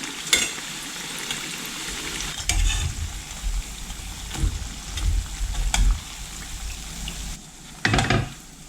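Kefir fritters (kykhli) frying in oil in a pan give a steady close sizzle, broken by several louder bursts of stirring and spattering, with no voices.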